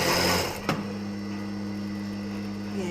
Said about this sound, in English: The machine he's using is bigger than his size, but he's able to sew it.